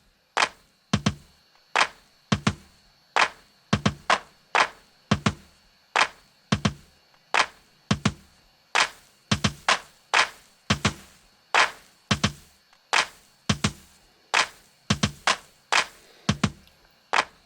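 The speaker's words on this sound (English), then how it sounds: "there we found some more clarity in the clap sound coming through" A drum clap sample loops in a steady rhythm of sharp, crisp hits while an EQ sweep gradually shifts its tone, with no voices present.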